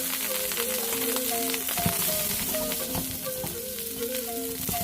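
Day-old rice sizzles and fries steadily in a hot pan for Chinese fried rice, a continuous crackling hiss with faint scraping and stirring, near and fairly loud, over quiet background music.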